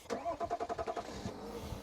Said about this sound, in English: So you hear the engine do a little bit.